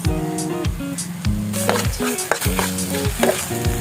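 Mushrooms sizzle and fry in a hot pan as seasoning and a little sauce go in, with steady crackling broken by repeated scraping stirs of a utensil against the pan.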